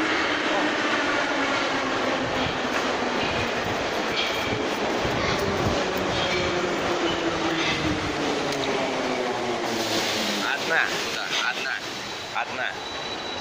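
A Novosibirsk metro train runs with a loud sustained rumble and rattle of wheels on rails, swelling near the end before fading, while voices talk faintly underneath.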